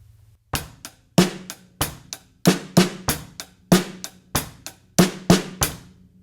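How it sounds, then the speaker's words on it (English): Rock beat on a drum kit with bass drum, snare and hi-hat together, a steady driving groove of crisp, close strikes with ringing cymbal wash over each hit, played alone without voices. "and when you add the hi-hat in there,"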